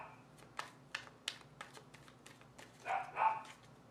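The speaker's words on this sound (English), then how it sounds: "I swear I can't do one video without them barking." Faint barks from dogs in the distance, a few sharp yaps scattered over several seconds with a couple of louder ones near the end, plus light clicking.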